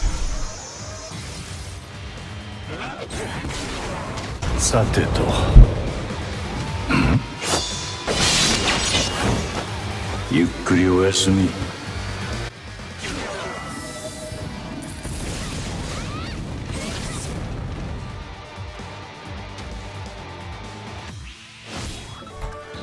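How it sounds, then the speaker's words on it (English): Shunsui's Soul Bomb attack animation in the mobile game Bleach Brave Souls, Japanese Parasol 2024 version: a run of shattering crashes and booming impacts with sharp bursts around the middle, layered over game music, then fading. "Play the Soul Bomb animation one more time"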